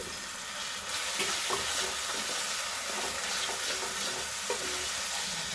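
Spice paste fries in a small amount of oil while spice-soaked water goes in for Bengali egg curry, giving a steady, close, hissing sizzle with light stirring scrapes throughout.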